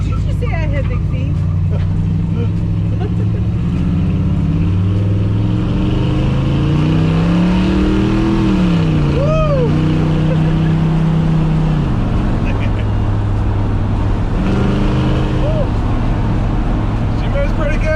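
An old Ford F100 pickup truck on a test drive, its engine revving up and easing back through several rises in pitch, heard loud from inside the cab while people talk.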